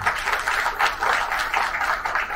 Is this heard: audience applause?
yes